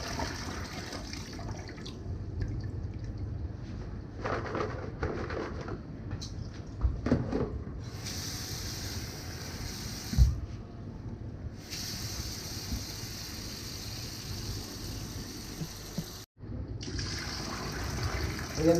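Green peppers are rinsed under running water, a soft hissing stream that cuts in and out with splashes, clunks and faint handling sounds, quiet and close.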